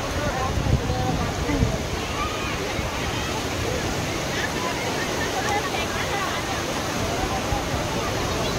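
Ocean waves wash steadily onto a sea shore, making a loud, continuous roar of surf and churning water close by with no clear breaks.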